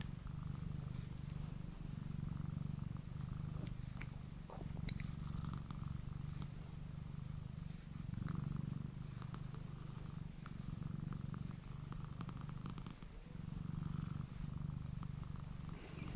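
A cat purrs steadily and softly up close, a low continuous rumble that rises and falls with each breath, with no talking.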